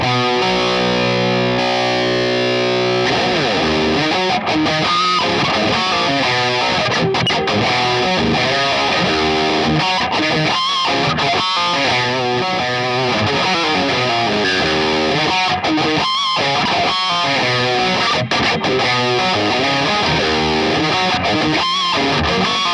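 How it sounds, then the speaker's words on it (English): Electric guitar played through an MXR/Dunlop tube screamer style overdrive pedal, producing a continuous loud driven tone with chords and single-note lines and no speech. "So they're super cheap for a really good quality tube screamer style pedal that doesn't sound any different to a TS9 really"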